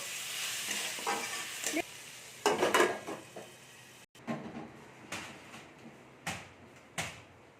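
Quiet scraping and clinking of a utensil stirring fried potatoes and onions in a pan, in irregular strokes over a faint background sizzle.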